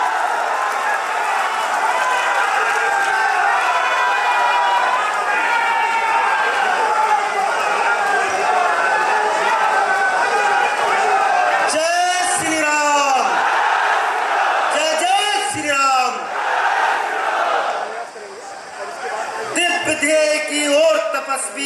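A large crowd roars and cheers continuously, loud and dense, with bursts of whooping and shouting rising above the din toward the end.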